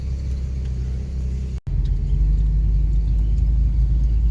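A Plymouth Belvedere engine idles steadily after a plugged vacuum advance was cleared, giving a continuous low rumble close by with one brief cutout partway through and no talking.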